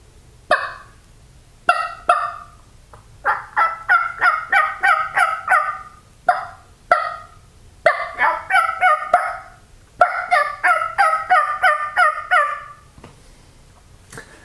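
A person imitating a wild turkey's gobbling yelps using only the mouth, no call device, in repeated bursts of rapid clucking yelps separated by short pauses, close and loud.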